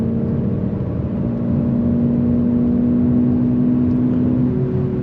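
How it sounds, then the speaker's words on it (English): A 2026 Aston Martin Vanquish's V12 engine heard from inside the car on the road, a steady, smooth mid-pitched drone with a strong held tone that swells slightly in the middle and then settles. "you're hearing that glorious V12 out the back of the car"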